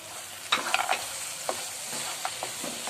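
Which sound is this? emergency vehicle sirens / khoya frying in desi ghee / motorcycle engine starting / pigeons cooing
khoya frying in desi ghee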